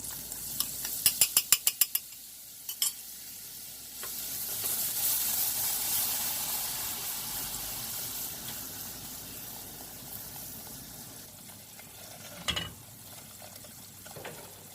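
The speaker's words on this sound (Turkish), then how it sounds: "Güzelce kavurduktan sonra unumuzu yakmamaya dikkat ediyoruz" Flour stirred and toasted in a pan with butter for a béchamel sauce for mushrooms, giving a steady soft sizzle with scraping stirs and a few sharp clicks of a utensil on the pan, no talking.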